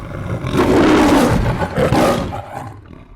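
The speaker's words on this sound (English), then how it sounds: "he roared the loudest roar he had ever roared in his life" A loud, deep lion roar swells and rumbles for a couple of seconds, then trails off, heard alone and close.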